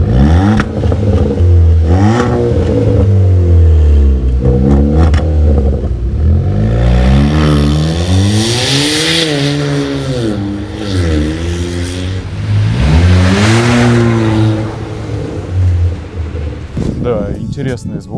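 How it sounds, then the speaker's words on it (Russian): A Kia Seltos 1.6 with a modified exhaust and installed valve revs repeatedly, the engine note rising and falling in loud close bursts with burbles and pops. "Интересный звук с пробулькиваниями, даже прострелами какими-то."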